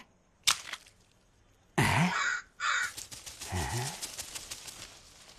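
A crow caws loudly twice up close, with a sharp click before and a longer harsh call trailing after, set against a quiet background.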